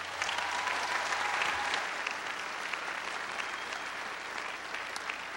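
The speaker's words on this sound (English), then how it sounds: "give them a round of applause" Audience applause fills a commencement ceremony, a dense, steady clapping from a large crowd heard throughout at moderate distance, with no talking.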